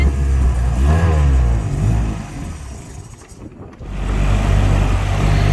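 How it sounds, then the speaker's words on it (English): A boat's outboard motor, running rough, is loud and close, revving up and dipping unevenly before settling back into a rough, steady drone. "So our outboard's running a little rough."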